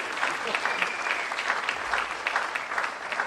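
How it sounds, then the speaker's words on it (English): An audience at a high school senior awards ceremony breaks into applause, a sustained, moderately loud patter of many hands clapping without pause. "you should clap for that"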